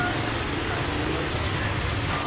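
Heavy rain falls outdoors in Paralaya as a dense, steady roar that fills the whole clip, close and loud.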